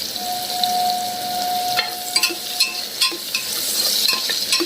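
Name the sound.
onion with salt sautéing in pan until golden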